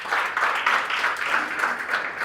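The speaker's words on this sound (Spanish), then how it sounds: "Yo que se le da un aplauso a Cristo Jesús." A church congregation claps for Christ Jesus during a sermon, producing a dense, rippling wave of applause that swells and eases in gentle pulses, moderately loud and with no voices on top.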